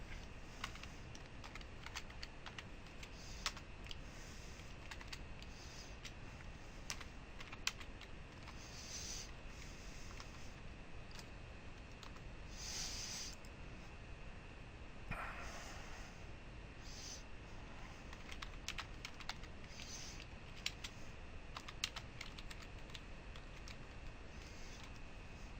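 Steady tapping on a computer keyboard while code is typed, soft and close, with bursts of faster keystrokes over a quiet room hiss for the whole stretch.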